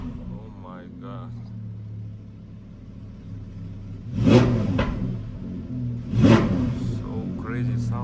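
Audi R8 (4S) 5.2 V10 coupe engine revving hard, two loud blips standing out over a steady low idle rumble, with people talking and exclaiming around it.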